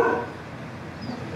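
A dog barks in the morning in a barangay alley in the Philippines, a single near bark at the start fading into quiet outdoor ambience.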